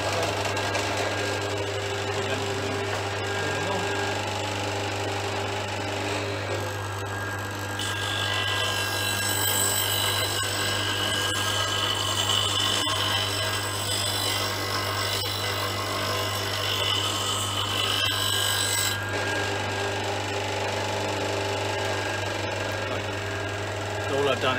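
Wood turning tool being sharpened against a grinding wheel in a workshop, a steady loud mechanical whine and grinding hiss running throughout with a constant motor hum underneath, a voice talking over it.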